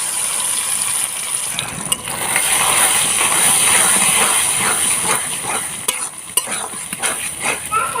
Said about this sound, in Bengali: আমি আজকে মাছের ডিম ভাজতে কালো জিরা দিয়েছি